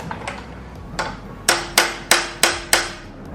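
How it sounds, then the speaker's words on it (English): A hammer strikes a 24mm deep socket to drive a spigot bearing into a Toyota 1UZ V8 engine: a few lighter taps, then five loud, evenly spaced metallic blows with ringing decay, close by and with no talking. "Shouldn't really be bashing on your sockets, but they're not my sockets."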